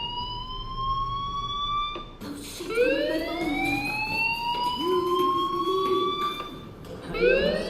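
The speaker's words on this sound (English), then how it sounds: "Hey, do you hear that fire alarm?" A fire alarm in Life is Strange Remastered wails with rising, sweeping siren tones that repeat steadily throughout, loud and continuous with layered whoops overlapping.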